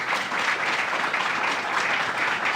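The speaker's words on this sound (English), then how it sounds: "Let's give him a round of applause." Audience applause fills a crowd gathered for the grand opening of the Constellation Brands headquarters in Rochester, a dense, steady clapping that holds evenly through the whole stretch with no voices over it.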